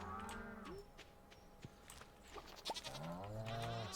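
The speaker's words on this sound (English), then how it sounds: "So many goddamn cows." Several cows moo in the farm game Stardew Valley, deep drawn-out lowing calls at the start and end with a faint bleat-like call in between, over quiet game ambience and no talk.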